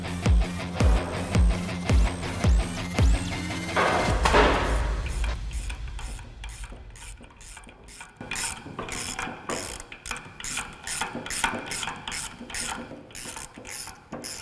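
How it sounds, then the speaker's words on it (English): A ratchet wrench clicks in a fast, rhythmic burst, then keeps clicking in quicker, shorter runs with metallic clanks, close and loud, while studs go into rear axles for a twin-turbo 1932 roadster. "right now I'm putting the studs in the axles that are going in the rear end"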